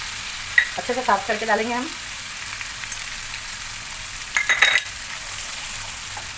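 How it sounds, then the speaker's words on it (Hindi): Ginger-garlic paste and green chili paste fry in a pan for a caterer-style sizzler biryani, a steady crackling sizzle running under a woman's brief speech, with a burst of sharper spattering near the end. "पहले इसको आपको अच्छे से भुनना है, अदरक लहसुन के पेस्ट और हरी मिर्ची के पेस्ट को"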